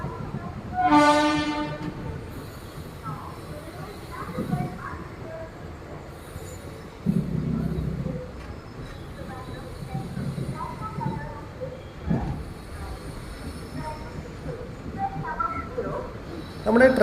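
A train arriving at platform 1 of Thiruvananthapuram railway station, with a loud horn blast near the start, then rumbling wagons, clanks and faint wheel squeal, while people talk in the background.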